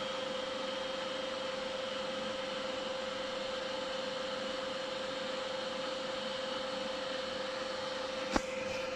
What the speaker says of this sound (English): Build plate's just lowering.